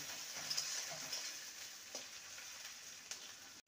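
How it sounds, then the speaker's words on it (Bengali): Chopped medium-sized tomato fries in a pan for a dal recipe, giving a soft continuous sizzle with occasional scraping taps as it is stirred, fairly quiet and with no talking. "টমেটোটাকে ভালো করে নেড়ে নেব।"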